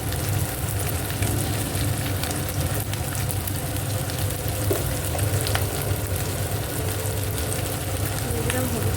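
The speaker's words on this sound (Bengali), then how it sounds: "আমার মশলা কষানো কমপ্লিট, সবগুলো দিয়ে আরেকবার কষিয়ে নেব।" Spices with chopped tomato, green chili, chili powder and turmeric sizzle and crackle steadily in a hot pan, a continuous loud frying hiss with occasional stirring clicks and no talk.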